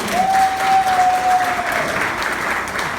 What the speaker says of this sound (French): le notaire Guy Marioguet, que je vous demande d'applaudir